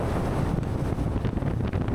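A Sea Ray 250 SDX outboard boat making a gradual port turn on open water, heard as a loud continuous engine rumble buffeted by heavy wind noise with faint wave wash, no talking.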